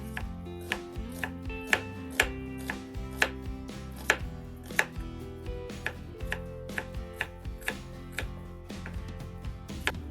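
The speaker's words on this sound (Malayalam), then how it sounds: "ഞാനിവിടെ 3 സവാളയാണ് എടുത്തിരിക്കുന്നത്, മീഡിയം സൈസ്. തിന്നായിട്ട് കട്ട് ചെയ്യാം" Three medium onions being sliced thinly with a knife on a board for paneer biryani, steady rhythmic chopping strokes close up with no talk, some cuts sharper than others.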